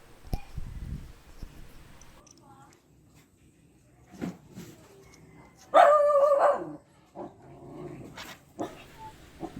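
A dog barks in scattered sharp bursts close by, with one loud run of barks midway, amid quiet workshop sounds during carburetor cleaning on a Honda XRM 110.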